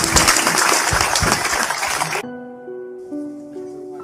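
An audience at a religious talk gives a round of applause for Pak Muzamil, a dense burst of clapping that stops abruptly and gives way to soft sustained musical tones.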